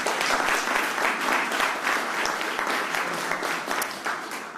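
Sustained clapping from a lunch audience at an event with the Premier of Victoria, dense and even across the whole stretch, fading slightly at the end.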